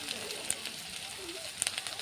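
Bitter gourd frying in a little oil with green chili, turmeric and salt, giving a quiet, steady sizzle with a few sharp crackles and pops.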